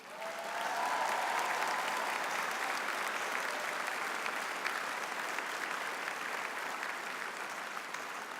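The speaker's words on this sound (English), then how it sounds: "give a round of applause to Rabbi Shaya Kalimnik" A large audience at a CUFI plenary session breaks into sustained applause, a dense and even wash of clapping that swells in quickly and holds steady for several seconds.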